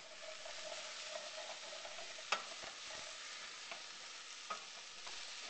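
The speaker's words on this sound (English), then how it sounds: "So now we're adding the squash, and look at what a beautiful orange color that is. We'll give that another stir." Cubed squash is stirred into a sizzling pot of stew with kale and white beans, giving a soft, steady hiss of frying broken by a few light scrapes and knocks from the spoon.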